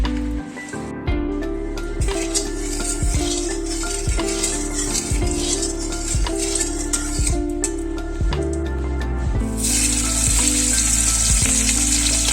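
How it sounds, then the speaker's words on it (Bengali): Bhetki fish bones fry in hot mustard oil in a kadai, giving a loud, continuous sizzle with occasional stirring scrapes, close up throughout with no talking. "এবার কড়াইতে সর্ষের তেল দিয়ে ভেটকি মাছের কাঁটাগুলো বেশ একটু লাল লাল করে ভালো করে ভেজে নিতে হবে।"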